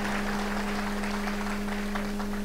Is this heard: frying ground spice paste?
no